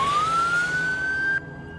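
An ambulance siren wails loudly, a single rising tone sweeping upward before cutting off abruptly, leaving a quieter steady tone and background rumble.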